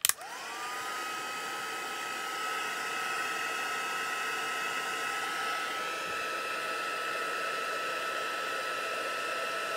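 A heat tool warms embossing powder on a silicone mat, roaring and whining in a steady, loud blast after a sharp start-up click and holding unchanged for about ten seconds.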